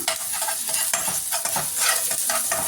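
Ginger garlic paste sautéing in a hot pan for podi idli, a loud steady sizzle with repeated scraping stir strokes throughout and no talking.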